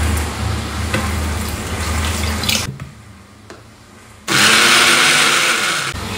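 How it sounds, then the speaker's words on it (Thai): A blender loudly whirring through dragon fruit with honey and water, a steady roar that drops off for a moment, then surges back at full power before stopping. "เราจะใส่น้ำไปนิดนึงนะคะเพราะว่าจะทำให้เขาปั่น"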